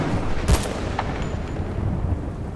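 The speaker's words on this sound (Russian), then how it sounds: "Один есть. Прекрасный выстрел." A single sharp sniper rifle shot cracks out at a jungle pier in Battlefield Bad Company 2, loud and close, fading into a low rumbling tail.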